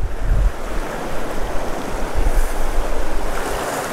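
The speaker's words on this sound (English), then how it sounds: "Look at this waterfall coming right into this pool here." A waterfall pours into a pool on a wild brown trout stream, a dense, steady rushing roar heard up close and fairly loud, with no voices.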